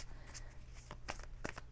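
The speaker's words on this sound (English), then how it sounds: "Two more shuffles, please." Tarot cards are shuffled in a few soft, quick riffles and taps, faint and close over a low background hum.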